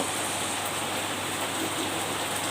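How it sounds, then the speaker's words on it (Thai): Steady rain falls in front of a house, a dense, even hiss of drops hitting the ground throughout, with no voices. "หน้าบ้านข่อยกับสิเป็นประมาณนี้ละพี่น้องเอ้ยฝนตกเย็นชุ่มฉ่ำดีมากเลย"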